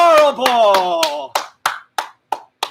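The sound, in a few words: hands clapping in exercise class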